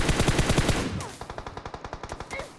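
Automatic gunfire in the mobile battle-royale game PUBG Mobile: a fast burst of loud close shots, then a second rhythmic string of about a dozen slightly softer rapid shots, with no talking.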